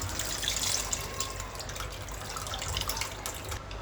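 Tamarind juice poured into a simmering Andhra-style meva fish curry, a soft continuous liquid splash and trickle lasting a few seconds, fairly quiet and close with no talking.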